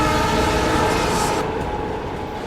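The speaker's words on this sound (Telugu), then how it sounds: "ట్రైన్ స్పీడ్ పెరిగింది" A moving train rumbles and rattles loudly and steadily throughout, with dense broadband noise that eases slightly toward the end.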